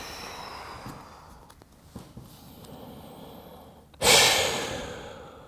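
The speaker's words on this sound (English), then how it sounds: "You hear me breathing deeply because I'm trying to slow my body down, calm the body down." Deep, slow breaths drawn during a weight-lifting workout, soft and close for several seconds, then a loud, long exhale near the end.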